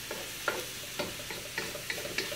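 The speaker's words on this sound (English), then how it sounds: "stir fry that all together so that the rice and the cabbage will start to get a little bit tender" Cabbage and cauliflower rice stir-fry in olive oil with a soft steady sizzle, broken by a few light scrapes and taps as the pan is stirred, close and quiet with no talk.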